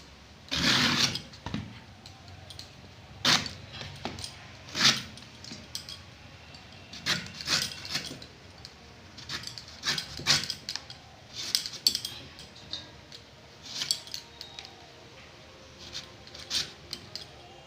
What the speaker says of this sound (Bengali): এঁচড়টা এবারে আমি কেটে নেবো